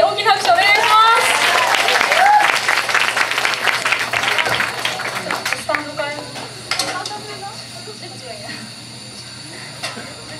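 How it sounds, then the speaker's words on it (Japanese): An audience applauds a singer at a live show, with loud, dense clapping at first that thins and fades over several seconds into a quieter room. "皆さんもう一度あかりさんに大きな拍手お願いします"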